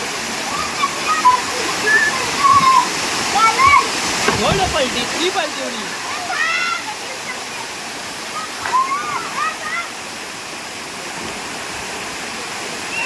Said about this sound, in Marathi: मस्तच वॉटरफॉल आहे